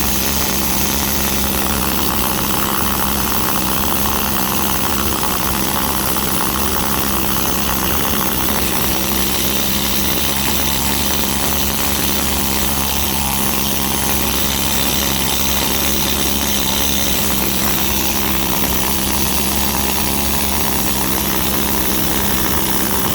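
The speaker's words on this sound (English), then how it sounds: "And what we're going to do is show you how this needler works." An air needle scaler works over a Tacoma transmission case, a loud, steady rattling hammer running without pause for the whole stretch, with no talking.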